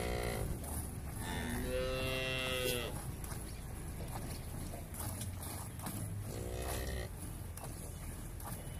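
A crossbred cow for sale moos twice, a long low call followed by a shorter one, heard close over a constant background hum with no talking.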